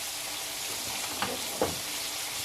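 Chicken malai boti pieces sizzling steadily in a hot pan, a soft continuous frying hiss with two brief louder spits partway through, close and fairly quiet, no voices.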